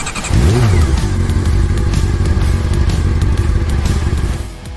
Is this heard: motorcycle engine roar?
yes